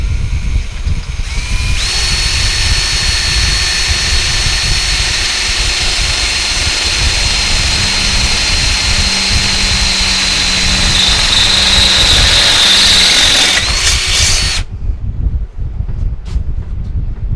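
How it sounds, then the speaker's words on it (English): A power drill whines steadily for about thirteen seconds, loud and close, boring a hole through a pipe before cutting off abruptly. "it don't really matter to me where I drill a hole in it"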